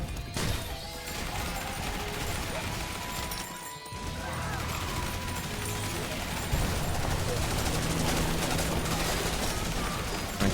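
Shotgun fire in the zombie survival game Yet Another Zombie Survivors: dense, rapid bursts of blasts and crashing impacts roll on continuously at moderate volume, with a voice talking over the action.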